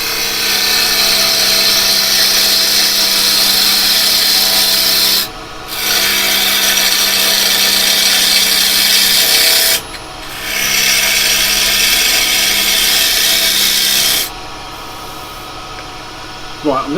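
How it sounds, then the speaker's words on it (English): Yew wood spinning on a lathe under a spindle gouge gives a loud, steady rasping hiss of cutting, broken by two short pauses and stopping near the end. "I'm going to stick with a spindle gouge at the moment."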